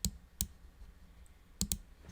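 Keystrokes on a computer keyboard while entering code in Scratch: a few sharp clicks, one near the start and a quick pair late in the clip, close and fairly loud over a quiet room.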